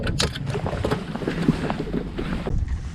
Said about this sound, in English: Wind's perfect here.